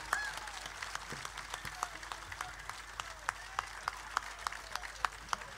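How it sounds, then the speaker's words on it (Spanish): An audience claps at a provincial immigrants' festival after a folk music group plays, giving steady scattered applause with distinct individual claps, fairly quiet overall. "A ver, fuerte ese aplauso"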